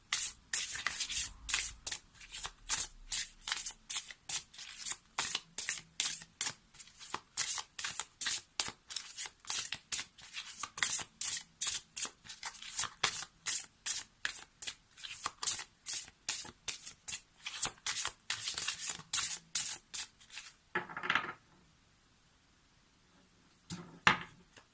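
Tarot cards being shuffled and drawn, a long run of crisp, rhythmic riffling bursts close up, followed by a pause and a couple of softer card slides or drawer sounds.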